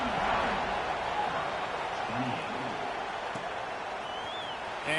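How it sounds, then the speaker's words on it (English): A football stadium crowd roars with a steady, broad wash of cheering after a score, sustained and distant-sounding across the whole stretch with faint commentary underneath. "this crowd is buzzing after that last score"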